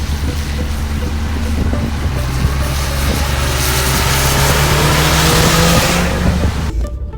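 A Toyota Celica All-Trac GT-Four (ST185) engine revs and accelerates steadily from inside the cabin, a loud continuous roar with rising pitch and road noise throughout, no talking.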